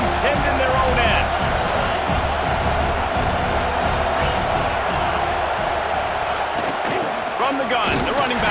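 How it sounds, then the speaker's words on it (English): A broadband stadium crowd roars steadily at a college football game in EA Sports College Football 26, a loud continuous wash of cheering from start to finish, with a commentator's voice over it. "The roar of the crowd trying to fuel this defense to keep them pinned in their own end"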